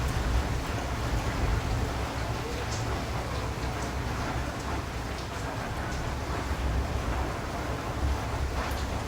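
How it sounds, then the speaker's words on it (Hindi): Heavy stormy rain pours down outside, heard from inside a room on Eid morning as a dense, unbroken roar that holds steady throughout. "इतनी तूफ़ानी बारिश हो रही है कि आप सोच नहीं सकते, लाइक फुल आवाज़ के साथ"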